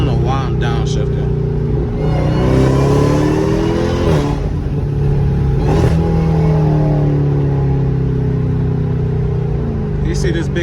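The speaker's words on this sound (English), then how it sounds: "I don't know why I'm downshifting" A Dodge Durango Hellcat's engine revs loudly and continuously from inside the cabin at night, its pitch rising and falling as it downshifts, with a steady rumble underneath.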